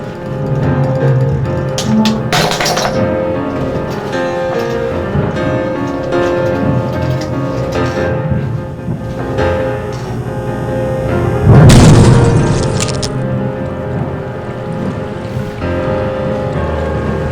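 Seawater floods into the sinking Titanic, a steady rushing wash beneath a low hum, with a louder surging burst about two-thirds through and no speech.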